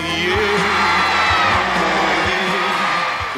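A concert hall audience shouts and cheers loudly and continuously, with whoops and yells layered over a steady crowd roar.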